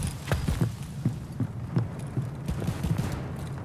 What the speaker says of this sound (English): I hear suppressed shots nearby.